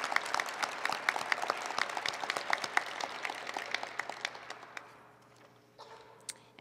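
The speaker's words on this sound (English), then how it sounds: "can we please applaud all the nominees tonight for their hard work?" Clapping from the audience at a mayor's awards ceremony for the nominees, a moderate crowd applauding with distinct sharp claps that gradually thin out and fade, leaving a quieter room with a brief late clap.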